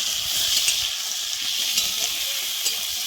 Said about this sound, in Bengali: দিয়ে এখন লাল লাল করে ভেজে নেব